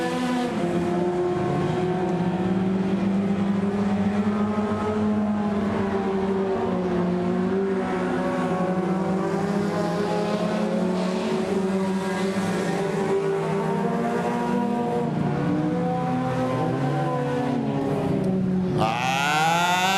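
Race cars finishing a short-track race, the winner a 1994 Honda Prelude SI with a 2.2-liter H22A1 engine, engines droning and revving in rising and falling pitches, fairly close, ending in a sharp upward sweep.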